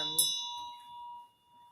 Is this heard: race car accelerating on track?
no